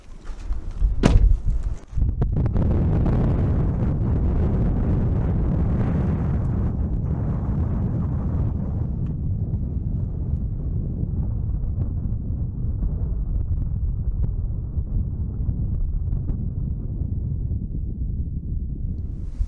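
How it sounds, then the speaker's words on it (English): Strong wind roars and buffets the microphone continuously after a sharp thump, a loud, dense rumble that slowly eases off. "It's also still extremely windy."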